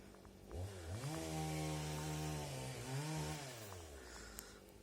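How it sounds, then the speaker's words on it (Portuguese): A chainsaw pruning in a crop field revs up and holds a steady drone, dips briefly and climbs again, then winds down. It sounds somewhat distant and moderately loud over faint outdoor background noise. "A motosserra tá fazendo uma poda na lavoura e fica"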